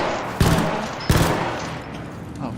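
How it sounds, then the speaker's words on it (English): Gunfire in a shooter video game: two sharp, loud bursts of shots about a second apart, each trailing off into a rumbling decay over a steady background din. "Oh, you're shooting."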